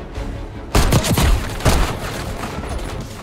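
Enemy gunfire in the video game Black Ops 6, loud and close: sharp bursts of shots over a constant noisy battle bed, with a second volley about a second after the first.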